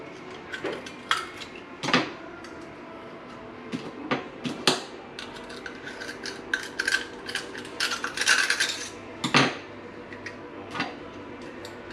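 Scallops being opened with a small shucking knife, sharp metallic clicks and scrapes of blade against shell arriving in irregular bursts, close and distinct with brief pauses between, no voices.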